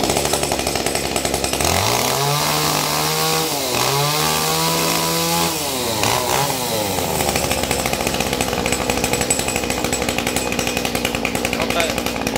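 A Japanese-import chainsaw idles, then revs up hard several times in succession, the whine climbing and falling, before dropping back to a loud, rattling steady run.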